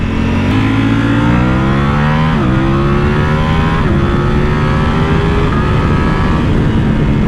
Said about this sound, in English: The exhaust sounds a lot better than I thought it would.